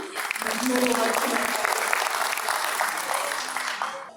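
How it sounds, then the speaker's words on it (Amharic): Audience applause at a conference opening, a broad crowd of clapping hands swelling quickly and sustained at full strength before trailing off at the end. "ጭብጨባ ብታደርጉ"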